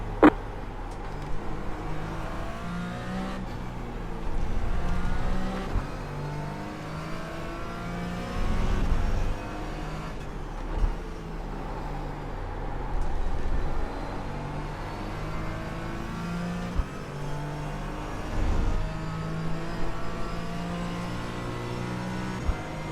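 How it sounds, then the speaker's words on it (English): A group of faster GT race cars in the iRacing sim at Indianapolis roar past one after another, engines revving and whining as they approach and pass, with repeated surges and fades and no talking. "Group of faster cars approaching."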